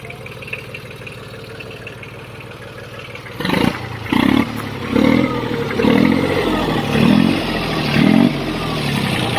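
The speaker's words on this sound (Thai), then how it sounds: "เสียงรอบเครื่องยนต์ยังปกตินะครับ" A Kubota L2402 three-cylinder 24 hp diesel farm tractor idles, then revs in a series of about six rhythmic throttle surges, close and loud, each rising and falling back.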